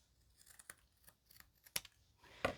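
Scissors snip excess paper from a single-layer card die cut, a few short, quiet cuts spaced apart with soft paper rustling between them, the last snip the sharpest and loudest.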